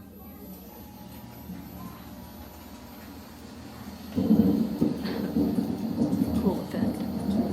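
A simulated thunderstorm effect plays in a nature center exhibit, with a low rolling rumble that swells suddenly midway into a louder, rougher roar of storm and fan-driven wind, continuing steadily to the end.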